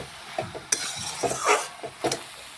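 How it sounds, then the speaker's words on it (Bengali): Cabbage being stirred in a pan, with a utensil scraping and clattering against the metal in irregular bursts over a faint sizzle, close and moderately loud. "আমি আবারও একবার নাড়াচাড়া করে নিচ্ছি।"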